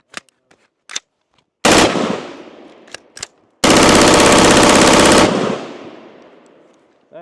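A Colt M4 FBI carbine with an 11.5-inch barrel fires long full-auto bursts in a meltdown test, with sharp single shots between two loud, sustained roaring strings that ring out afterward.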